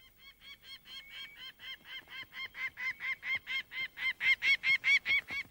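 A goose honks over and over in a steady, rapid rhythm on the Arctic tundra, the calls growing louder and more insistent, close by with no talking.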